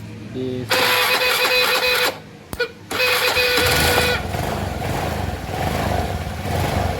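A carburetted Honda Beat motorcycle's starter clicks and whirs in short mechanical bursts, loud and close, followed by a rougher, lower rattling hum. The engine fails to start.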